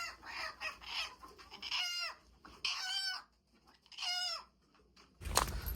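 Farm chickens cluck and squawk in loud bursts as they are caught to be moved into a new coop, with short pauses between calls and a sharp thump at the end.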